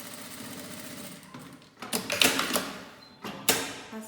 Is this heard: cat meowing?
no